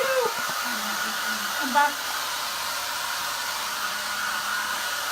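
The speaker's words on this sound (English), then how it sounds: "Hairdryer won't go any faster." A hair dryer runs steadily throughout, drying paint during a live charity painting session, with a steady loud whoosh under brief talk.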